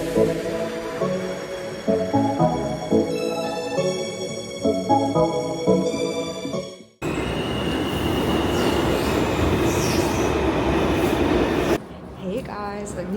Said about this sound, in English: I took the train on this Saturday morning